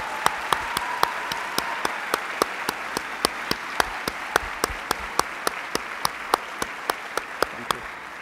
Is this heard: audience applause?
yes